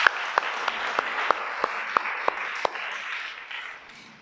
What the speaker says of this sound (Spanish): Dale un aplauso, pues.